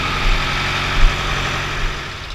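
A Ford 6610 farm tractor idles with an open-top cab, its diesel engine giving a steady low rumble with a few slight surges, loud and close, with no talk.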